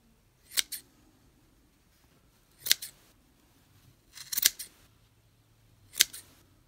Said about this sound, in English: Put my scissors in the loops and pull up tight and then cut.